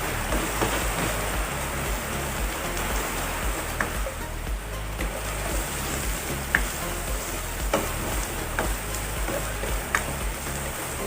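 Garlic goes into a pan of frying onions and sizzles steadily and loudly, a dense, continuous crackle with occasional stirring clicks for the whole stretch and no talking.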